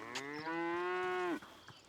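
A single long cow moo from a herd grazing in hill country, a loud, sustained, steady low call that drops off abruptly at the end, with faint background noise.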